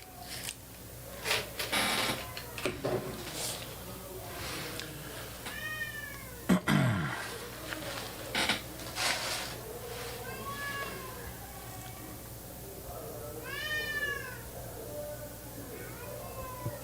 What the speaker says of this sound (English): Yeah, cat's mad.